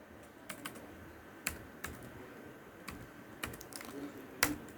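Code is typed on a computer keyboard: quiet, irregular key clicks, some sharper taps, over a soft room hum.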